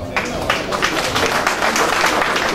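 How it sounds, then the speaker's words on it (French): Audience applause at an Ivorian business awards ceremony following a recited excerpt, a short burst of dense clapping with crowd noise, moderately loud and continuous. "Cet extrait mérite encore d'applaudissements"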